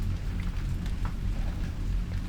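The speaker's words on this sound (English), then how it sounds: "Oh, it's like raining outside." Rain falling outside in the Silent Hill video game, a steady soft patter of drops with a low rumbling undertone, no voices.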